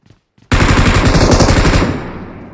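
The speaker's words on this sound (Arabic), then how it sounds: "طلقة طلقة طلقة" Automatic machine gun fire in a video game: a loud, sustained, rapid burst of shots that starts abruptly after a moment of near silence, then thins and fades out toward the end.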